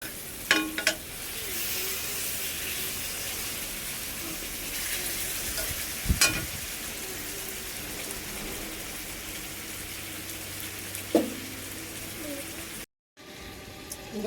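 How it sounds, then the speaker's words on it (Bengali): Mango frying in melted sugar with a little mustard oil in a pan gives a continuous soft sizzle with a few sharp clinks of a spoon against the pan, fairly close and unbroken by talk. "এবার অল্প সরিষার তেল দিয়ে দেব। ভালোভাবে একে সেক দিয়ে দিয়ে দেব।"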